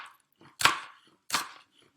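A knife strikes a cutting board twice in sharp, close strokes about two-thirds of a second apart while chopping ingredients finely for a vegan chickpea tuna salad.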